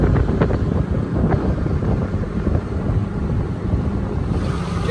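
Strong wind buffets and roars outdoors on a spring farm, loud and continuous with heavy rumbling gusts hitting close to the microphone and no voices.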